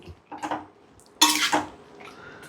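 Coconut paste being stirred into vegetables for avial in a pot, with a few scraping clinks of a spoon against the metal in short bursts, close and moderately loud, no voices.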